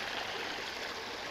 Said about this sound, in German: das ist das Wasser vom Wasserfall